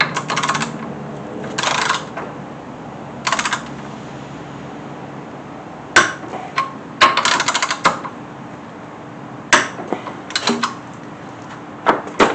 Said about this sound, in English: now I'm going to torque this to the 45 foot-pounds that it should be